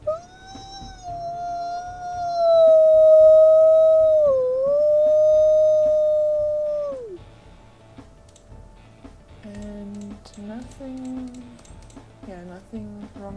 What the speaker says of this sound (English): Secondary howl.